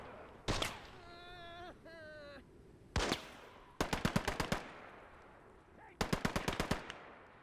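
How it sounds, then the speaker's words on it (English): A deployed machine gun fires in rapid bursts of about six to eight shots in the war game Gates of Hell, along with single loud shots and a wailing voice between them. "Don't wanna reveal yourself to that deployed machine gun."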